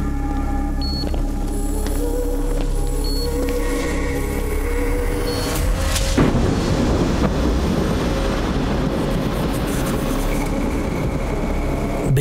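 A sudden sharp thunder crack bursts out midway, then a rolling rumble lingers over a steady low background hum during a power cut at a computer repair shop.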